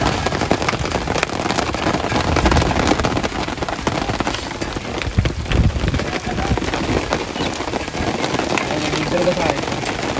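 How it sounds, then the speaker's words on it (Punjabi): Heavy rain hisses loudly and steadily, with dense pattering close by and no break from start to finish. "ਪੂਰਾ ਮੀਂਹ ਪੈਣ ਲੱਗਿਆ"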